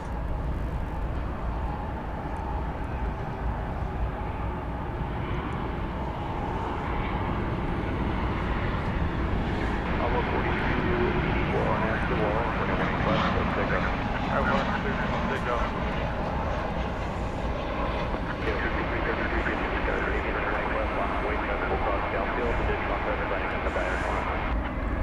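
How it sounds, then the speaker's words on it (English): An American Airlines Boeing 737-800 arriving at Dallas/Fort Worth airport at night gives a constant broad jet roar. It holds loud and steady for the whole stretch with no clear rise or fade. "we've got American Airlines flight number 584 coming in from Tucson, Arizona. It's a 737-800 right here on Runway DFW"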